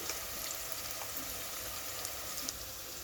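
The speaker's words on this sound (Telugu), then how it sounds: "ఉల్లిపాయలు వేసుకోవాలి ఉప్పు వేస్తున్నా ఉల్లిగడ్డ మనకు మంచిగా వేగాలంటే ఉప్పు వేసుకోవాలి" Onions frying with salt in a pan for an egg biryani, giving a steady, fairly soft sizzle that holds evenly throughout with a few faint crackles and no voices.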